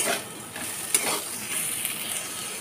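Mixed vegetables with tomato pieces and green chillies fry in a pan, a steady close hiss and sizzle broken by a few light stirring clicks, with no voices.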